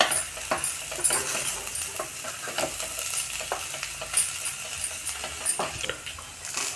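Chopped tomatoes are stirred in a frying pan for fenugreek dal, with a steady close sizzle and repeated scraping and clinking strokes of the spoon against the pan.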